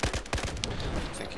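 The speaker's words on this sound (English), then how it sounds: "That tank's already shelling this place, so it's not going to give us much cover" Tank shelling on the Golmud Railway map in Battlefield 4 gives a quick run of heavy, booming blasts and gunfire, loud and dense over a brief rumbling background.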